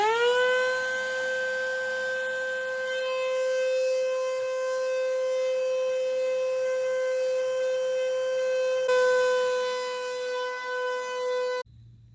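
A vacuum cleaner sucks leaves out of a home HVAC unit, its motor winding up into a loud, steady whine that holds without a break, then cuts off abruptly near the end.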